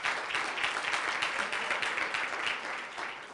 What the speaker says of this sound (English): I'll give you a hand of applause.